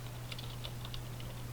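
Quick bursts of typing on a computer keyboard give a run of light, rapid clicks over a steady low hum, close and fairly quiet with no voice.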